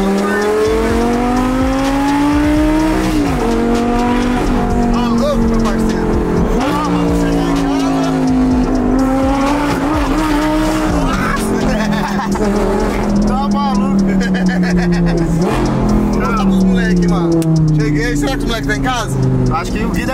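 A Lamborghini sports car's engine drones loudly and continuously while driving, its pitch rising and falling with repeated shifts and acceleration, with people talking inside the car throughout.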